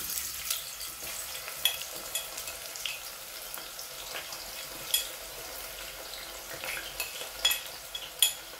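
Onions stirred and frying in a pan make a quiet, low sizzle, punctuated by scattered clicks and scrapes of a utensil against the pan.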